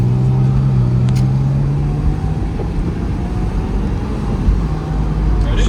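Engine and road hum of a cheap Porsche Boxster driving with the top down on new tires and brakes, a steady loud drone with rising engine tones and some wind rush throughout.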